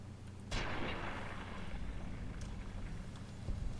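Single loud gunshot boom in a video game, followed by a long rumbling decay over dense game background noise, with a fainter second report later.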